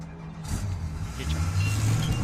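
A car engine in the video game The Fall rumbles and revs steadily across the short stretch, loud and close, with a low voice murmuring faintly underneath.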